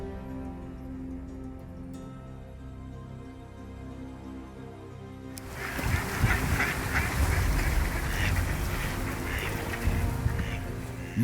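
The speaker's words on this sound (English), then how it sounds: "Most visitors at the park come to see the waterfowl." Ducks, including mallards, quack in a noisy cluster at a park pond after a quiet, humming start, their calls mixing with rushing outdoor background noise.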